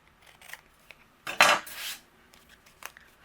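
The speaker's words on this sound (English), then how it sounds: "I'm just going to use my scissors and trim that off." A single sharp snip of scissors trimming overhanging paper while cardmaking, close and crisp, with a few faint rustles around it.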